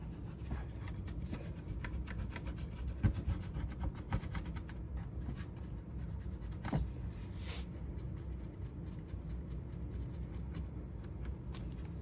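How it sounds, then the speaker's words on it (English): A transfer tool rubbed over a transfer laid on wood, giving faint, close, dry scratchy strokes over a quiet background hum. "Then I'm going to take my transfer tool and I'm going to rub the transfer"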